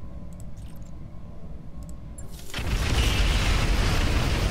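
A PPC weapon fires in a BattleTech video game, a sudden loud burst that swells into a sustained roaring explosion after a quieter stretch of low rumble.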